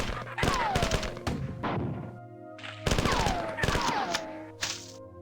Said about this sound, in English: He heard the gunfire